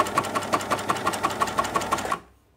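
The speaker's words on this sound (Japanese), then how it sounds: "ちょっと試し縫いスタートします。" A coverstitch sewing machine runs a short test stitch on fabric binding, a fast, even mechanical chatter of evenly spaced needle strokes up close before it stops abruptly.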